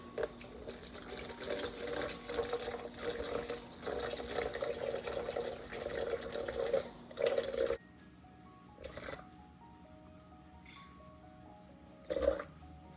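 Water poured into a container sitting on a kitchen scale while measuring for cold process soap, a soft trickling stream for several seconds that stops, followed by faint scattered clinks and handling sounds.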